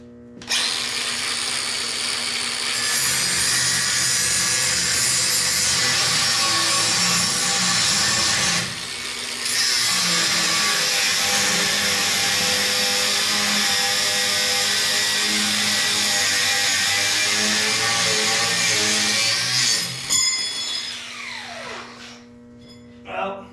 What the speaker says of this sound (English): let's see how straight I can cut this with just a grinder